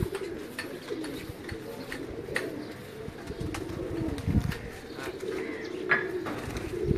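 Soft, low pigeon cooing from caged pigeons on a Lahore rooftop repeats steadily over a constant background hum, with a few faint chirps above.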